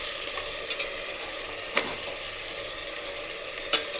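Chicken frying with onion and turmeric in a pan gives a soft, steady sizzle with a few brief clinks and scrapes of a stirring utensil, close and quiet with no talking.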